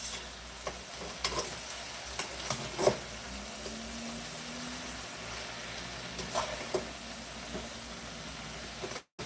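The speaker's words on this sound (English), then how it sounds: "And it's frying. That's how you make fried cabbage." Cabbage frying with meat in a pan gives a steady broadband sizzle with faint stirring clatter, continuous and fairly close, with no talk.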